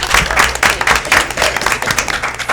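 Clapping from the audience at a village board meeting, a dense patter of many hands held steady for a couple of seconds with no voices over it.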